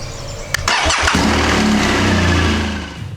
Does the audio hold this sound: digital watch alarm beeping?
no